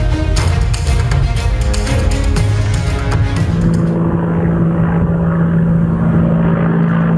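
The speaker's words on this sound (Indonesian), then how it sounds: "helikopter jenis Apache milik Israel menyerang Lebanon Selatan" Israeli Apache attack helicopter over southern Lebanon, a loud steady rotor and engine roar holding throughout with a droning low hum, no voices.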